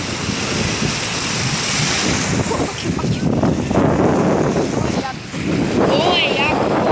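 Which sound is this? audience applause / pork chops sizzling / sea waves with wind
sea waves with wind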